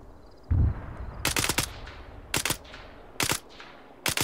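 Bursts of automatic gunfire in the military shooter Arma 3, fired at night with night vision, come in several short rapid volleys spaced about a second apart, sharp and loud, with a single dull thump before them and no talking.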